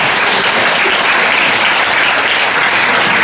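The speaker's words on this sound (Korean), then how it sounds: "하나님 아버지께 영광의 박수" An audience claps steadily at a church Bible seminar held at the Korea University alumni hall, with dense, even applause filling the room at close range throughout and no talking.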